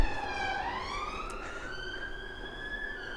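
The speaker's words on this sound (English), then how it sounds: "once the police car's gone past" A police car siren wails as it passes outdoors, a continuous rising and falling tone that sweeps upward and holds steady over a steady background rumble.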